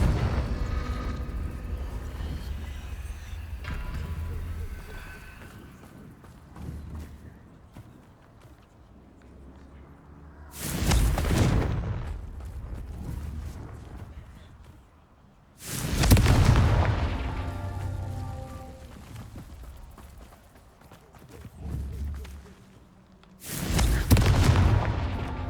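Confringo blasting curses in Hogwarts Legacy explode as loud, deep booms, three or four spaced several seconds apart, each with a rumbling tail, over a low game soundtrack.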